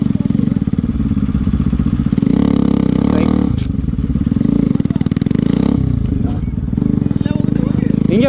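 A motorcycle engine idles and revs unevenly on a forest trail as the rider eases out the clutch, close and loud with clattering and scraping, while someone talks over it throughout.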